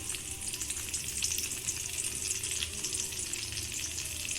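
Chopped garlic and chilli stir-fry in hot oil for spicy chilli chicken, making a loud, continuous, dense sizzle close by, with no voices.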